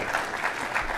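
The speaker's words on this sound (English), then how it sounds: "A round of applause for the fact that tech actually works." An audience claps at a conference opening session, a dense, even patter of many hands filling the room at moderate loudness with no voices over it.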